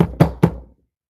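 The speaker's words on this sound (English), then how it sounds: "she pounded on the door even louder" Heavy pounding on a door: three loud, evenly spaced knocks close by, with nothing else heard and a quick fade after the last blow.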